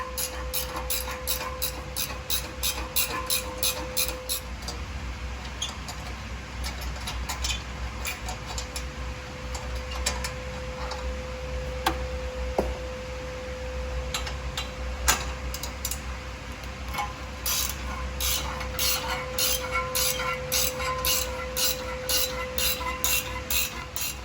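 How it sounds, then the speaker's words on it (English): A 14mm wrench works the nuts joining the exhaust mid pipe to the crossover pipe on a Fiat 124 Spider Abarth, with rapid ratcheting clicks in runs over a steady hum, fairly close, with no talking. "we need to remove these 2 nuts that connects the mid pipe to the crossover pipe. And it takes a 14mm wrench"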